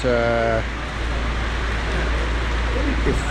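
Rain pours steadily at a petrol station in Palapye, a dense constant hiss throughout, with a voice briefly heard at the start.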